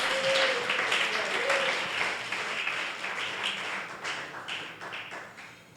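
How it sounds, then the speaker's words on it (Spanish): A church congregation claps during a Spanish-language sermon, giving a steady, moderately loud round of many hands that gradually thins toward the end, with a brief voice heard near the start. "Si tú lo crees, dale un aplauso"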